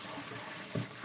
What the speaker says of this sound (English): We're gonna run some more water.